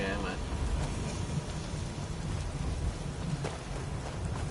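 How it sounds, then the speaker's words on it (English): Rain falls in a fantasy video game, a steady hiss under a low rumbling wash that continues without a break, while someone talks over it. "Is it raining? It's raining."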